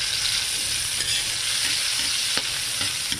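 Garlic, ginger and onion sauté in a hot pan with a steady, loud sizzle, and a few sharp clicks of stirring cut through it.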